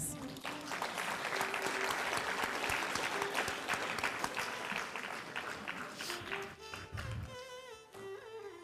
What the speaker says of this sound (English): Give them all a big round of applause, please.